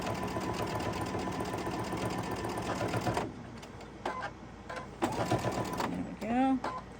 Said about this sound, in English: And so now I'll go ahead and sew these so they go the opposite direction.